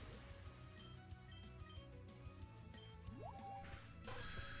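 Water Pulse attack in a Pokemon video game, a quiet burst of dripping, squishing liquid effects with bubbly rising chirps over faint game music.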